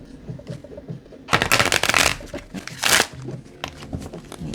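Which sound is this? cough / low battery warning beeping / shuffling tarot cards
shuffling tarot cards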